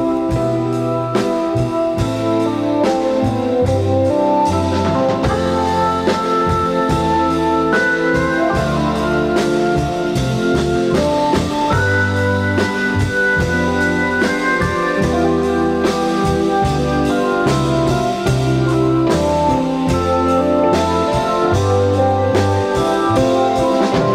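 An excerpt of a song plays continuously, with organ-style chords stepping through inversions over a stepwise descending bass line, full and steady throughout.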